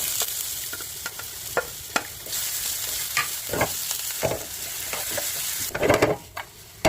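Sliced potatoes fry in oil for a breakfast omelette, a steady close sizzle broken by spatula scrapes and stirring knocks, with a louder burst of crackling near the end and no talking.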